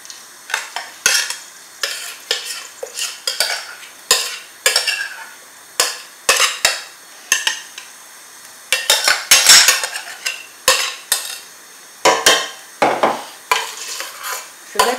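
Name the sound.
crushed condiment mixture frying in oil in a pot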